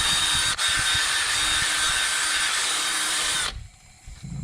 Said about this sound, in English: So I'm just going to hit the wire brush over the whole thing right now.